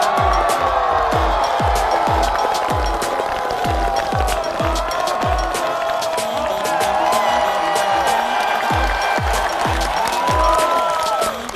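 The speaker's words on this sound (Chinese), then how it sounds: "让我们一起热烈掌声欢迎他" Applause and cheering from a studio audience welcoming a comedian onto a stand-up stage, a dense steady clapping wash with a crowd whooping and shouting over it for the whole stretch.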